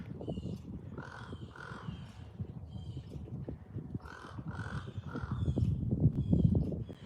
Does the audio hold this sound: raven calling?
yes